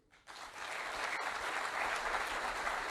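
Sustained audience applause after speeches at a ceremonial event with the head of state, rising quickly from a brief quiet start into a dense, steady wash of clapping that holds for the rest of the stretch.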